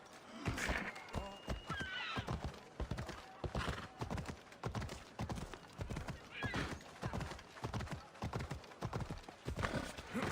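A horse gallops in Assassin's Creed Odyssey with rapid, rhythmic hoofbeats throughout, close and loud, plus a whinny near the start and faint speech in the background.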